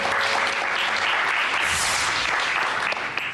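Studio audience clapping on a television game show, dense and fairly loud applause that swells near the middle and stays steady to the end, with no speech.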